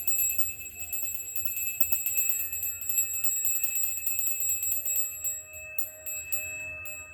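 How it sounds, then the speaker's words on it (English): A bell rung to open a shamanic journey and art therapy session, its clear high metallic tone ringing and sustaining, fading slowly in a quiet room with some faint tapping near the end. "Okay, so I did use a bell this time"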